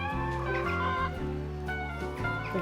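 Backyard hens and a cockerel cluck close by in a steady run of throaty, tonal calls that rise and fall without pause.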